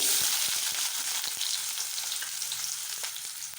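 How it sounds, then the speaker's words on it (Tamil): Small halved shallots sizzling in hot oil with mustard seeds in a pan, a steady close crackling fry with scattered pops, no talking. "சின்ன வெங்காயம் போட்டுக்கலாமுங்க."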